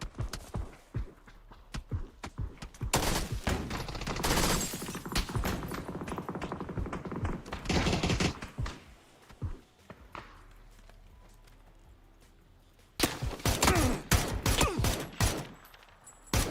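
Bursts of rapid gunfire crackle in dense volleys, with a lull in the middle before another heavy burst, like shooting in the video game PUBG.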